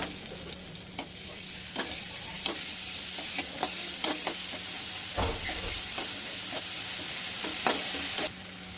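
Ginger garlic paste frying and sizzling in a hot pan while being stirred, a steady crackling hiss with repeated scraping stir strokes close by, no talking.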